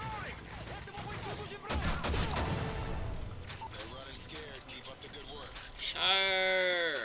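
Gunfire from the Call of Duty Modern Warfare 3 video game, a hardcore defensive lockdown match with shotgun fire, sounding as loud bursts of shots and blasts under continuous talking from players.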